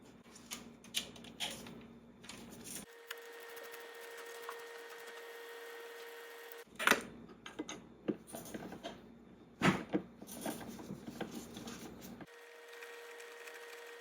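An 8mm socket wrench loosens bolts on a 2016-18 Mercedes-Benz GLE 350 during an engine air filter change. Bursts of quick ratcheting clicks come close and clear, split by short pauses and a few louder knocks.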